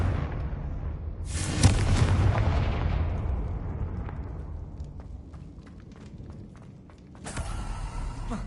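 A fire blast spell in Hogwarts Legacy lands as a loud booming explosion, followed by a long rumbling, crackling decay that fades before a second burst of noise near the end.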